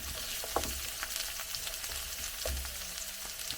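Onions sauté in a pan for pancit habhab, giving a steady, close frying crackle with a few soft knocks of a ladle stirring them.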